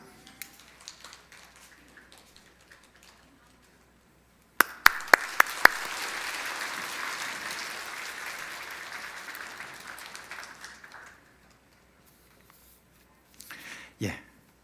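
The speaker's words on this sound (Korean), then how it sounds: "점화 끝나고 나면 다 같이 박수 한번 칩니다" Church congregation at a Christmas Sunday service bursting into applause after the final white candle is lit: a few sharp claps, then sustained clapping lasting about six seconds before fading, with quiet room sound around it.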